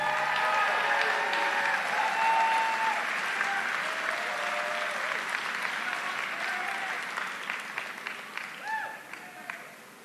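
Rally crowd in Erie, Pennsylvania applauding and cheering for a mayor taking the stage, a dense, steady wash of clapping and shouts that slowly thins toward the end, with a few scattered voices rising over it.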